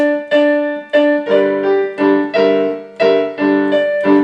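Piano playing Junker Blues with the left hand holding a D, a steady rhythmic run of clear, loud repeated chords and notes, close and without any talking.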